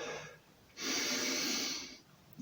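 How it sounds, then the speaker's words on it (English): A person takes a single long, audible breath in through the nose while exercising, close and breathy, rising sharply and holding for about a second before fading. "We're breathing in, lifting the arms up."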